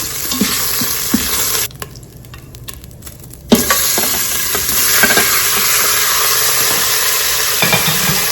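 Chicken pieces sizzle and fry in olive oil in an Instant Pot, with steady loud crackling and occasional stirring scrapes; the sizzle drops away briefly mid-clip and then returns.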